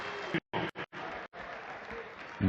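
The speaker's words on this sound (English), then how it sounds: "Listen to the crowd here in Hamburg." Darts crowd in Hamburg applauding at the 2017 European Darts Matchplay, loud continuous clapping broken by brief dropouts, with talk at the end.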